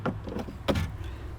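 A pry tool works a rivet-type plastic clip loose on a BMW Z4, with a few short scraping clicks and one sharper pop close by, no talk.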